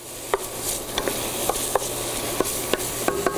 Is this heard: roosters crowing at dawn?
no